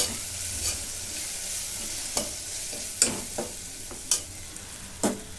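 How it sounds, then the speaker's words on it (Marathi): Coriander-cumin powder and red chilli powder sautéed in a pan, a steady hiss of frying under a handful of scattered spatula scrapes and clicks, close by. "धना जिऱ्याची पावडर लाल मिरचीची पावडर आता हे परतून घेते"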